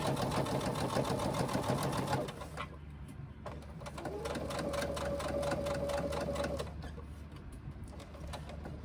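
A sewing machine top stitches a sling, first in a dense busy run, then settling into a steadier rapid stitching rhythm with a faint whine, close and moderately quiet.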